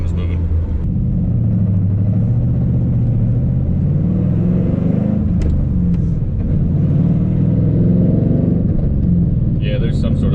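Steady low engine drone and road rumble from a 4th gen Camaro while driving, with a vibration issue and a shifting motor and transmission, continuous and fairly loud throughout with no talking.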